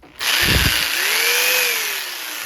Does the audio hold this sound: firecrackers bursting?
no